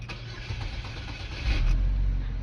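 A car engine cranks with its crank position sensor unplugged, giving a rough, delayed start: a short churning crank builds, then catches into a louder, deeper running rumble near the end.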